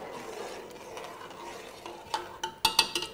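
Biryani masala with lime juice is stirred in a pot, a low simmering sizzle followed by a burst of sharp metallic spoon clinks against the vessel, with no voices.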